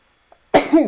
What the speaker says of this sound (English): There's a sneeze.